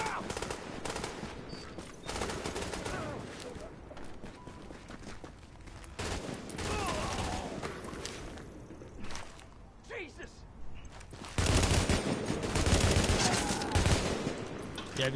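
Bursts from the hazmat gun in The Division crackle through a tunnel firefight, fairly faint and mixed with voices and other game noise, rising to a denser volley near the end.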